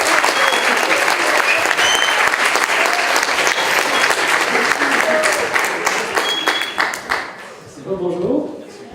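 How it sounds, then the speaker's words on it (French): An audience at a project presentation gives the presenter a dense, loud round of clapping that carries on for about seven seconds, then tapers off as the room settles. "merci de faire un tonnerre d'applaudissements à Corentin Perrault"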